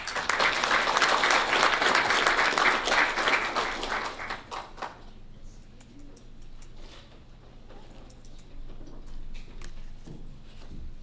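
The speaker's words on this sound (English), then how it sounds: "Give them all one more round of applause." Applause from the audience at a school board meeting, full and dense for about four seconds, then thinning to scattered claps and taps over a quiet room.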